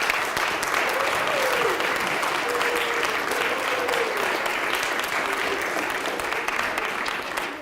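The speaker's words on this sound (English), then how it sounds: "Let's give these guys a round of applause for the support and the matrix." An audience claps steadily at a DARE graduation ceremony at a Lutheran school, a dense sustained round of applause lasting several seconds, with faint voices underneath.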